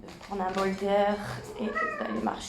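A small cat meows faintly in the background beneath someone speaking French, its short cries partly masked by her continuous talk.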